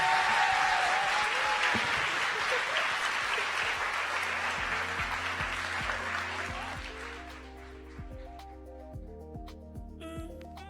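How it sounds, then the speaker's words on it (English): Audience applause at a tech summit in New York City, dense and loud for about seven seconds, then thinning out as music fades in beneath it. "Can we please get a round of applause for Raquel and Gabrielle?"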